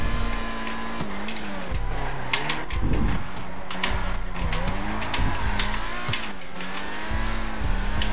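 Old cars racing in a video game, with continuous loud engine drone rising and falling through gear changes, plus intermittent tire squeals over a steady mechanical roar.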